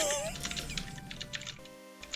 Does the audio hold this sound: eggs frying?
no